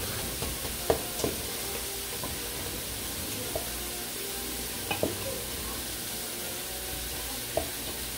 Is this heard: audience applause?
no